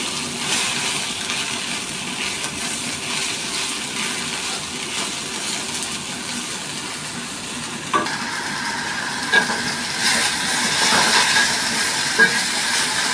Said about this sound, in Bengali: ভালো করে কিন্তু আমি ফুলটাকে ভেজে নিচ্ছি